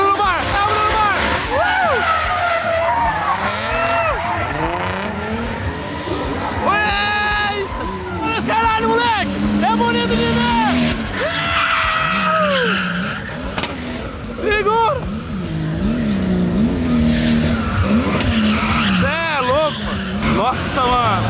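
Chevette cars at a car show rev hard and squeal their tires in repeated skids, loud and close, with an excited crowd shouting and talking over the engines throughout.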